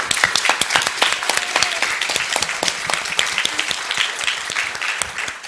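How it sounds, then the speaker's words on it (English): Audience applause at a climate innovation science symposium for a colleague asked to stand, with dense, steady clapping sustained for several seconds and no talk over it. "So a big applause for..."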